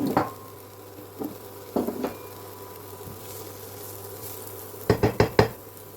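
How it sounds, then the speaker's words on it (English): Finely chopped onion goes into a hot pan, giving a soft, steady sizzle with occasional utensil knocks and a quick burst of four sharp clanks near the end, close by with no talking. "Pop our finely chopped onion in."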